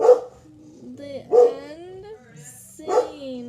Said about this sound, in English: sorry about the dog, everybody.